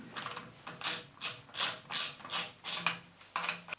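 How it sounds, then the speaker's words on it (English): A ratchet wrench with a gripping socket turning a rounded-off nut, making about eight rhythmic clicking pulls in a row, close and clear, each a crisp rattling burst with short pauses between. "Simply put the socket on the ratchet, locate it on the rounded off nut or bolt, and then you can very easily undo that."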